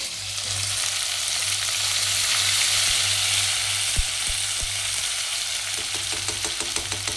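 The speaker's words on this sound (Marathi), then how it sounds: "मसाला चांगला परतून घेणार आहोत" A masala of onion, ginger, garlic, coriander, white sesame and coconut fries in a pan for egg curry, giving a steady close sizzle broken by a few sharp clicks of stirring.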